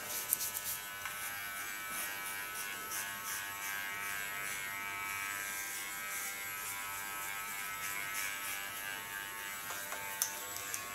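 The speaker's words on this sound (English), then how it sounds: "So this is the sharpest position of this wonderful Theo clipper." A Theo hair clipper set to its sharpest, 0.5 mm position buzzing steadily close up while shaving a head down to almost bald, a continuous bright whine with small scratchy flickers as it passes over the hair, alone without talk.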